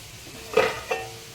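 Spices being stirred and sautéed with fried potato and cauliflower in a cooking pan, heard as two short scraping, sizzling bursts with a quieter hiss between them.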